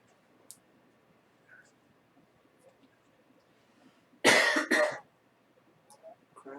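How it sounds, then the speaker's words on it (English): A single harsh human cough lands in a short double burst after several seconds of near silence, close and fairly loud, with faint clicks and light rustles around it. "Cough, and the whole stoner community coughs with you."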